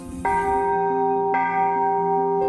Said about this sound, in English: May the music of these bells keep your memory alive.